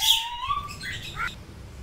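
Bali mynas and white starlings give loud, close chirps and rising whistled calls, a quick series of bright notes over a low rumbling background.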